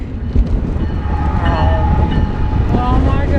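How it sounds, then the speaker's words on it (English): A loud train rumbles past close by, its heavy roar steady throughout with a high squeal of wheels rising briefly in the middle. "there goes the train"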